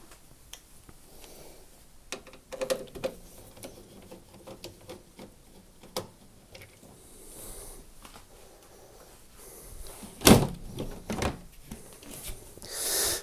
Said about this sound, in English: remove the top of the appliance by undoing the 2 screws at the back